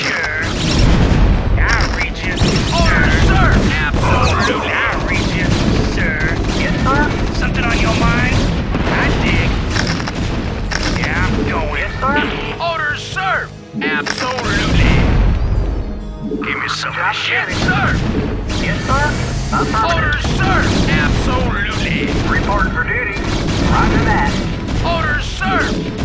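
StarCraft Remastered battle in a Terran versus Protoss match, loud and continuous booms, crashes and weapon fire layered over unit voice lines throughout.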